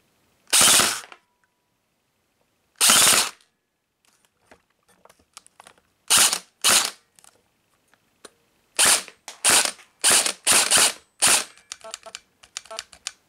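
An airsoft gun fires BBs through an Xcortech X3300W chronograph, giving sharp, loud single cracks with irregular gaps, several in quick succession toward the end, with faint clicks between shots.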